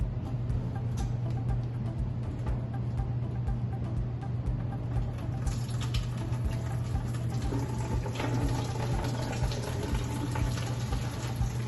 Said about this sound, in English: open up our other tap here to bring all the water back in and drain into the house